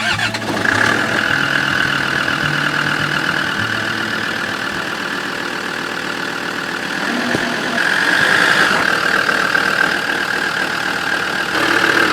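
Heavy forestry vehicle engines turn over and settle into a steady, loud mid-pitched idle, with a brief surge partway through and no voices.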